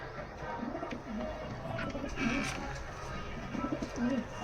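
Pigeons kept by a breeder in Dhamat, Muzaffarnagar, coo in soft repeated low throaty phrases, several birds calling close by over a faint background murmur, without talk.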